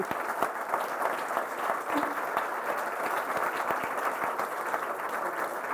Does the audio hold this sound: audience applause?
yes